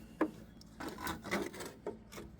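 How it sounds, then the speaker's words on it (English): Sharp drill bit scratched across painted steel on a 2005–2007 Ford F250 frame, a few short rasping scrapes spaced through a quiet space. "I just grab my drill bit or something sharp, kind of scratch the paint on where my holes and everything go."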